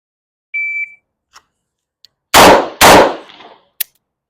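Handgun shots fired during a shooting drill: two loud, sharp broadband reports in quick succession, preceded by a brief electronic timer beep and faint clicks, then a short metallic tick.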